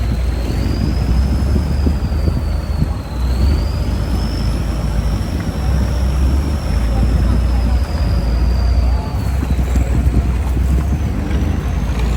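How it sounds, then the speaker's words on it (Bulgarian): Boat engines drone near and far across a crowded lagoon off Phi Phi near Phuket, a steady rumble with one high motor whine gliding up and down, under constant wind buffeting. "вижте какво гъмжило от лодки е за малко в тази лагуна"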